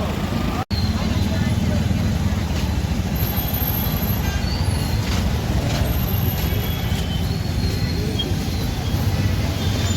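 Slow-moving vehicles crawl through a dense traffic jam at the Maha Kumbh Mela in Prayagraj, a steady low rumble of engines and traffic noise with a brief sharp dropout near the start, continuous and fairly close throughout.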